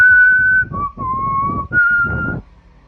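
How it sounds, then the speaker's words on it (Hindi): Melodic whistling used as an eerie effect in a horror story: a few sustained, close, clear notes that step between pitches, with short pauses and no other sound. "अब सीटियां बज रही हैं"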